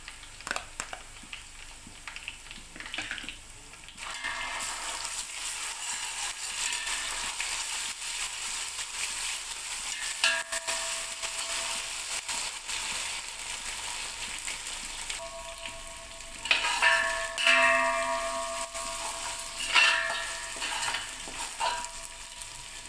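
Onions fried golden brown sizzle in a pan as ginger garlic paste is added and stirred, giving a steady close frying hiss with louder crackling bursts and scraping near the end; no one speaks.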